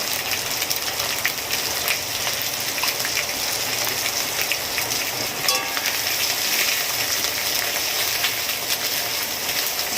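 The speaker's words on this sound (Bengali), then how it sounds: "মশলাটাকে কষাচ্ছি।" Spice masala frying in a pan with salt added, for a Bengali ol and tangra fish curry, giving a steady, loud hiss and crackle that carries on throughout with no talk.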